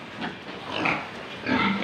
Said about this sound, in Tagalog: Nakapagpainom na rin ng mga baboy